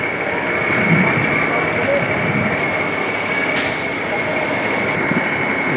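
A small train rolls along its rails with a continuous, close rumble and steady mechanical noise, with a brief high hiss partway through.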